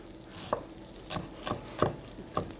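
Onion being chopped fast with a knife on a board: a few crisp, separate cuts about half a second apart, close and fairly quiet, with no voices.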